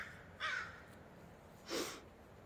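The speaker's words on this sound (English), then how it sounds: "the crows were making really weird noises too, like not the usual types that I've heard before" Crows caw in a forest on a quiet Sunday, two separate harsh, hoarse calls with a pause between them, fairly faint and distant over a soft background hush.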